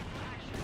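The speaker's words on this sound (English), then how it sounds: "There's some hits for the Panzerwerfers again." Panzerwerfer rocket artillery strikes in Company of Heroes 2 land in one brief, loud, dense burst of impacts that fill the short moment with steady rumble.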